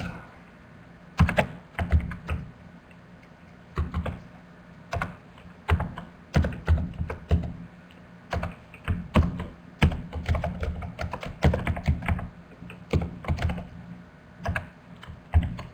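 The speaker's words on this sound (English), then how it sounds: "For this tutorial, I'll just type in some sample information." Sample information being typed on a computer keyboard, a long run of close, quick keystrokes in irregular bursts with brief pauses between words and fields.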